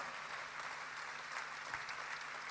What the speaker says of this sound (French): Applaudis le Seigneur Jésus fortement ce soir.